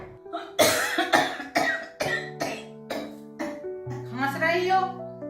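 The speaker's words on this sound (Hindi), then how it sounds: "खांस रही हो तो क्या टीबी हो गई?" A woman coughs repeatedly in a rapid series of about eight harsh, close bursts, ending in a rougher, throatier fit.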